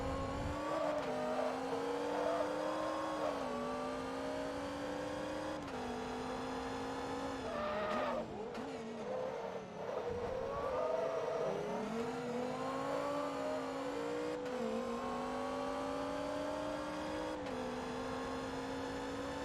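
A race car engine screams at high revs as it pulls away in Forza Motorsport 2, climbing through gear changes with sharp drops and rises in pitch, with a brief tire squeal in the middle, loud and close with no talk.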